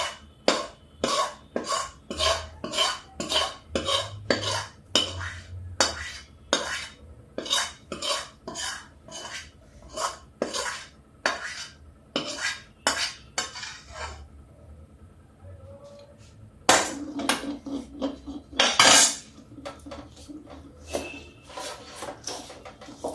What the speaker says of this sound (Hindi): नीचे से हम पूरा पूरा मिक्स करते जाएंगे।